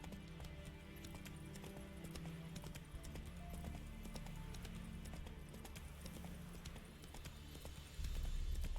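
Roach, the horse in The Witcher 3: Wild Hunt, galloping with a fast, steady clip-clop of hooves, close and continuous under game ambience.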